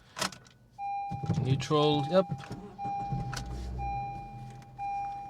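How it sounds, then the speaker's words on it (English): A 2012 Honda Civic starts: a short whirring crank, then the engine catches and idles low, with a steady dashboard chime tone underneath and someone speaking a few brief words. "let's give the car a start"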